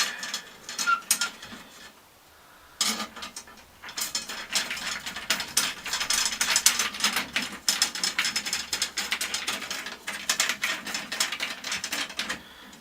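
Drum tension lugs on a new beginner kit being turned with a drum key, giving bursts of dry ratcheting clicks and scraping that start and stop, close by, with a short quiet pause early on.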